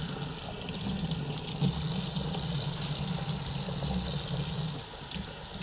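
Water is wrung from a car polishing pad, a steady close splashing and dribbling like liquid running into a sink, fairly quiet and continuous, easing off near the end.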